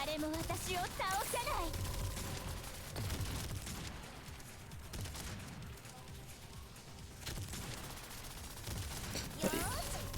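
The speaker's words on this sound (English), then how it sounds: "Fucking shotgun booms." Shotgun blasts in the Girls' Frontline video game, a few dull booms buried in dense, continuous game music and effects throughout, with no single blast standing out clearly.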